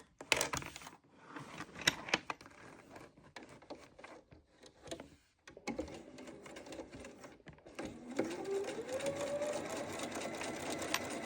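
Sewing machine stitching fabric for a Sew Together Bag, running in bursts of whirring needle strokes with short pauses and a steadier stretch of stitching at the end, close and fairly loud, with no talk.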